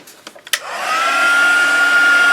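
A few brief knocks, then a dryer switches on and settles into a steady, loud whirring hum with a constant whine, blowing to dry paint colour on a mixed media flower piece.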